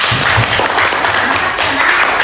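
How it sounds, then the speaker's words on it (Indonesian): A burst of steady applause from a classroom group, dense and fairly loud, filling the moment without a break. "tepuk tangan untuk Akila."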